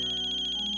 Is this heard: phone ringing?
yes